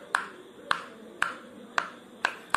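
A silicone pop-it fidget toy gets its bubbles pressed one after another, giving five crisp, evenly spaced pops about half a second apart, close and moderately loud.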